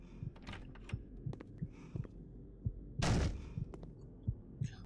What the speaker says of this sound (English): the sound of your heartbeat indicates how close he is.